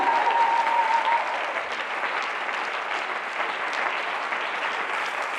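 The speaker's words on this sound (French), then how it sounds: "Ô peuple de Dieu, acclamez votre Sauveur." A church congregation bursts into loud, sustained applause and cheering, a dense crowd wash that stays steady throughout without pause.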